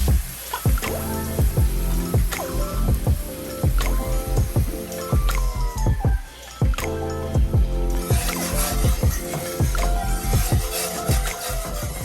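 Heavy cream with cooked vegetables and garlic is stirred in a pan while the spoon scrapes fond off the bottom. Continuous wet squishing and sloshing with frequent soft knocks and scrapes, close and fairly loud throughout.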